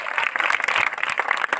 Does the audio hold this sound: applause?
yes